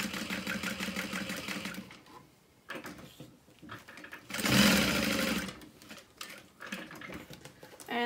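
Sewing machine stitching a fabric wristlet at a long basting stitch length, rapid mechanical whirring runs in bursts with brief pauses and clicks between, close and steady.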